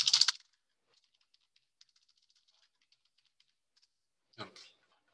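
Computer keyboard keys clack while content is entered into a spreadsheet: a dense burst of typing at the start, faint sparse clicks through the middle, then another short flurry near the end.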